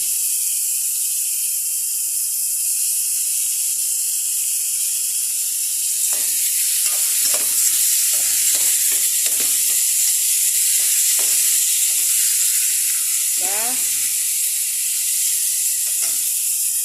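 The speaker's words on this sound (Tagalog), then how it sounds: "Papadurog-durugin lang natin bago ilalagay natin yung sardines." Vegetables sizzle with a constant loud hiss in a pan for a pochero with burger beef, while a utensil scrapes and presses in a run of short repeated strokes, as if mashing sardines, midway through.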